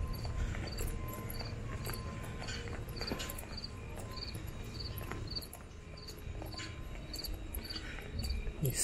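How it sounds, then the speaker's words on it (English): Crickets chirp steadily in a dense outdoor chorus on the St. Lawrence River waterfront in Ontario, a continuous high trilling over low background rumble. "you hear the sound of the crickets?"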